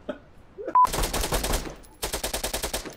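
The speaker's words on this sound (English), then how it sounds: "No, I shoot off an underbarrel grenade launcher." In Door Kickers 2, a single sharp underbarrel grenade launcher shot pops out near the start. Two long runs of rapid, evenly spaced gunfire follow, loud and close, with a brief gap between them.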